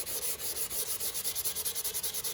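Wet sanding by hand on an old car hood to remove adhesive, a close, quiet rhythmic rubbing with quick regular back-and-forth strokes, no talking.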